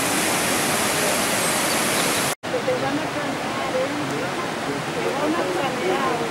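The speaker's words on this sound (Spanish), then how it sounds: "Abajo tenemos la urgencia kárstica que origina las cascadas típicas aquí de Urbaneja del Castillo" The karst spring at Orbaneja del Castillo spills as waterfalls, a dense, steady rushing roar of falling water, loud and continuous, broken by a brief cut partway through.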